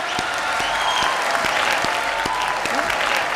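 An audience at a Hindi comedy poetry gathering applauds continuously, a dense, steady wash of clapping with scattered louder claps.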